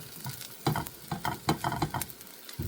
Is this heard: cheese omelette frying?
yes